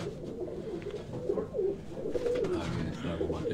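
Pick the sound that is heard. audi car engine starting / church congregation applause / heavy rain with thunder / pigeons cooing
pigeons cooing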